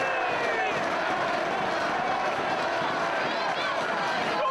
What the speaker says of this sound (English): And the crowd continues to urge the challenger back to his feet.